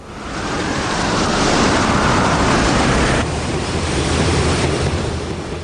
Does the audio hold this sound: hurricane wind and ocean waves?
yes